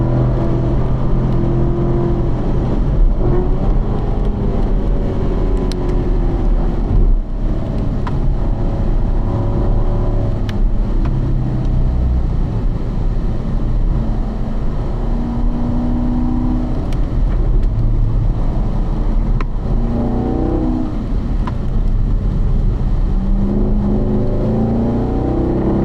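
Race car engine droning steadily as it laps a racetrack at a driving school, rising and falling in pitch through gear changes and corners, loud and close throughout with no pauses.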